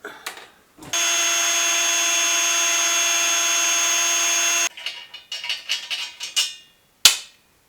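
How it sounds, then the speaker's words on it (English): A steady, high-pitched power drill whines for several seconds drilling out a plug in metal exhaust headers on a K5 Blazer, then stops, followed by scattered metallic clatter and a sharp knock. "now we're going to drill her out."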